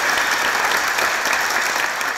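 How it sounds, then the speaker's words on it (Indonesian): A studio audience claps for Cinta Laura on a talk show, giving a loud, dense, continuous round of applause that stays steady throughout. "Kita berikan aplaus untuk Cinta Laura."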